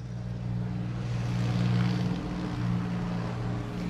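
A low, steady tractor engine drone rumbles throughout, swelling slightly in the middle as it passes nearby in the countryside, with a faint hiss of outdoor air.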